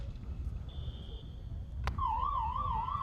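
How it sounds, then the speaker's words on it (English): A sharp click followed by a loud, steady electronic siren ending a quarter of a field hockey playoff game, with a slight wavering pitch, sounding alone over low background rumble. "And that is the siren to end the third."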